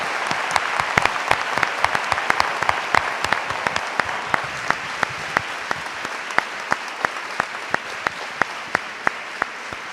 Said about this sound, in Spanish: pues le damos un gran aplauso a Santiago.